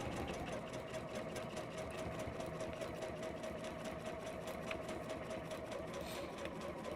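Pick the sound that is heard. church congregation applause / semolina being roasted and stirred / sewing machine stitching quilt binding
sewing machine stitching quilt binding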